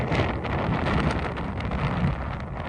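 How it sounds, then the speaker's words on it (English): Strong wind buffets the microphone on an estuary while paddling in, a dense, steady roaring rumble that fills the whole stretch without a break. "The wind was so strong"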